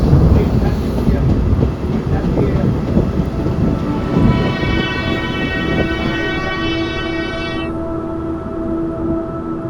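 A MEMU train runs along a railway line between Tirupati and Kanchipuram, giving a steady loud rumble of wheels and carriage for the whole stretch, with a sustained horn-like tone rising over it midway.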